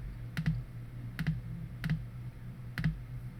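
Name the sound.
typing a location name on a computer keyboard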